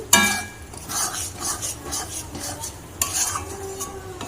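Sattu is stirred into a dalpuri filling in a pan with a soft, rhythmic scraping and rubbing, a faint sizzle underneath and a couple of sharper clinks of the utensil.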